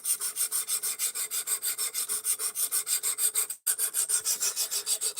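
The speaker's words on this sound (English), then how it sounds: "to get this sharpener so that we had a bit of an easier, faster time sharpening these things in the middle of the stream" A D2 steel knife blade is drawn across a sharpener in steady, evenly spaced strokes, a close, rhythmic rasping that pauses briefly once before resuming, with no voices.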